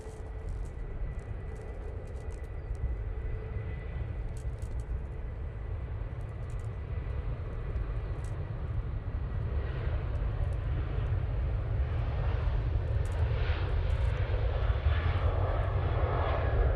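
A Ryanair airliner takes off at Manchester Airport, its engines a continuous broadband roar with a low rumble that grows gradually louder across the whole stretch, heard alone without talking.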